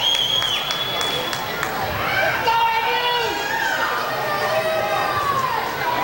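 A crowd at a college women's volleyball game hollers and chatters, a lively roar of overlapping voices with shouts rising over the general din in an echoing gym.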